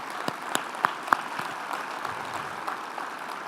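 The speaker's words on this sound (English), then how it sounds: "So let's give them a round of applause." Scattered audience applause for legislators at a STEM education summit, a few distinct sharp claps standing out over a thin, sustained patter of hands that stays fairly light throughout.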